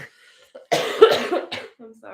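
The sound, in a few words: person coughing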